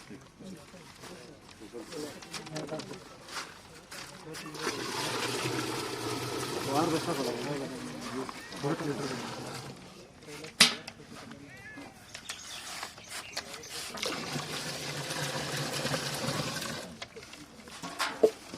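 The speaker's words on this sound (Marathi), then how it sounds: "दहा लिटर पाणी टाकणार आहोत" Ten litres of water are poured into a jivamrut mixture for organic farming, making two long rushing, splashing stretches of moderate loudness with quieter gaps and some voices between them.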